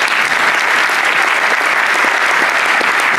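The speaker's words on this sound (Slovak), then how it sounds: "Obrovský potlesk." An audience breaks into big, sustained applause at an event, dense and even clapping filling the room without pause.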